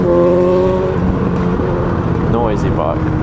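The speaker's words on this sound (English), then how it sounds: "Noisy bike." Honda Rebel CMX 1100 motorcycle engine idling with a steady, loud mechanical drone that runs throughout, under someone talking.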